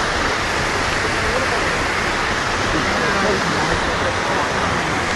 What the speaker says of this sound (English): Reef Waterfall.